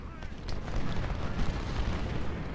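Massed rifle volleys and artillery in the Ultimate General Civil War strategy game roll together into a dense, continuous rumble of overlapping booms and cracks, with no pauses.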